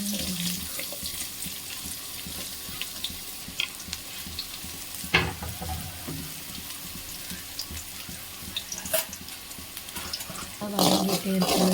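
Onions sauté in hot oil in a steady, close, hissing sizzle. Scattered clinks and scrapes of stirring run through it, and a busier burst of utensil noise comes near the end, with no speech.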